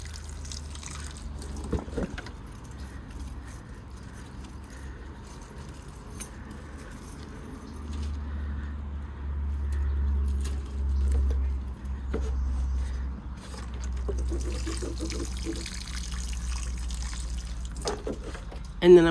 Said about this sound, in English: I'm just going to water these in,